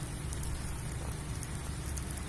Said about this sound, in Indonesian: cara kerjanya itu seperti hujan buatan